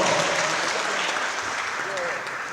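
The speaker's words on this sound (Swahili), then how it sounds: "Makofi kwao." An audience claps for senators at a political meeting of teacher leaders organised by a governor. The applause is dense and steady, with voices mixed in under it.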